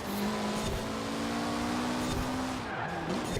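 A Mitsubishi at full throttle in Forza Horizon 4 holds a sustained, strained engine drone near one pitch, with tire noise underneath, then eases off and dips near the end, heard close and loud without talk.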